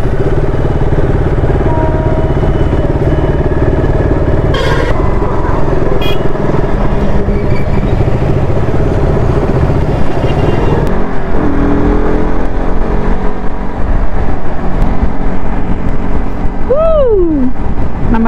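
Two vehicles pull away from a fuel stop, a loud continuous engine drone with passing traffic noise, a brief horn-like tone near the end, and faint talk beneath.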